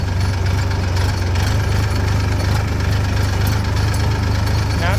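A tractor engine runs loud and close in a steady, low, rumbling idle that throbs evenly without pause or change; no voices.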